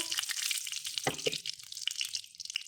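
Mustard seeds fry in a pan on the stove, a soft close sizzle punctuated by a few quick pops and crackles.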